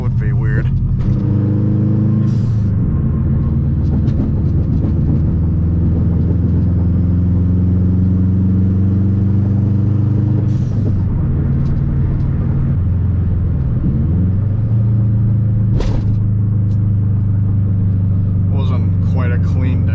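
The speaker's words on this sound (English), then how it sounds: "Wasn't quite a clean downshift" A modded Subaru WRX engine drones steadily while the car drives through a city in the rain, heard from inside. Engine pitch shifts at a few points as the car downshifts, with occasional clunks and faint sounds in the background.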